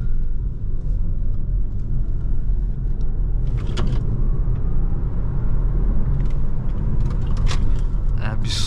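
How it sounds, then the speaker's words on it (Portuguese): A Volvo C40 Ultimate 2024 electric car, 408 cv, travels along a Brazilian municipal road near Pirapora do Bom Jesus, with continuous low road and tyre rumble inside the cabin and occasional light clicks and rattles. "agora a bordo do Volvo C40, saída da estrada municipal Pirapora do Bom Jesus"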